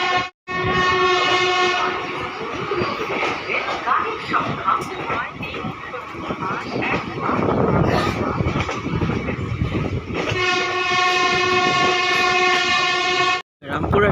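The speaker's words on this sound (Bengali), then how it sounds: "ট্রেন ছেড়ে দিল রামপুরহাট জংশন স্টেশন থেকে" Asansol–Malda express horn sounding loudly as the train departs Rampurhat Junction, two long sustained blasts at the start and end framing the rumble and clatter of moving carriages, with a voice talking over it.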